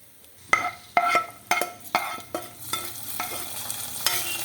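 Fried raisins being stirred into a creamy, mild navratan kurma in a pan: a series of close, sharp scrapes and clinks of the spoon against the pan, about eight strokes over a soft background sizzle, with no talking.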